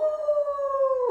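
A person imitates a wolf howl with their voice, a single sustained, slightly falling tone that holds steady for about a second, close and loud with no other sounds.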